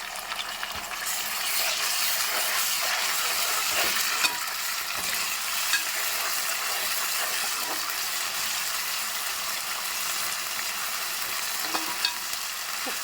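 Ginger garlic paste fries in a pan with a constant close sizzle, broken by intermittent scraping knocks as it is stirred. The sound holds steady for the whole stretch, and no one speaks.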